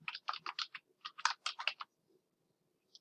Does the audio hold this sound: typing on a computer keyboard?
yes